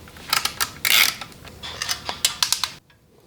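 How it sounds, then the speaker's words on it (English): A screwdriver works loose the two small screws on a motorcycle license plate mount, giving a run of quick ratcheting clicks and creaky mechanical ticks, close up, ending abruptly in near silence. "the next thing that we have to do is take off the existing plate mount, which is just these 2 little screws."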